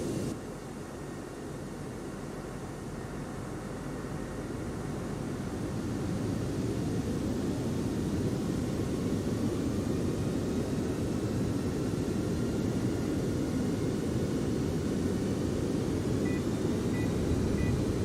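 Steady, loud aircraft engine roar in a flight simulator, with broad rumbling noise that swells slightly after the first few seconds and then holds constant throughout, with no voices.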